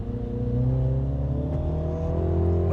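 MINI Cooper JCW with a 170 kW engine and 8-speed automatic accelerating on a race track, a loud, close engine note whose pitch climbs smoothly and steadily.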